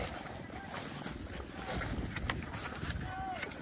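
Strong seaside wind buffets the microphone in a steady, rough roar with gusty swells, heard outdoors at a beach campsite.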